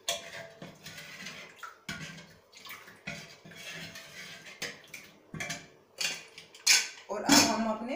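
A spoon stirs sambar masala in a pan, with scattered clinks, scrapes and knocks of metal on cookware, moderately quiet and close, spaced irregularly over several seconds.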